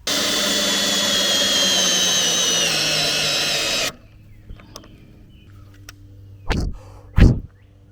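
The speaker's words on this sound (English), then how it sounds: "I'm having a hard time drilling a hole" A cordless drill whirs loudly and steadily for about four seconds while drilling a hole in a tiny cabin, then stops; quiet clicks and two short bursts of handling noise follow.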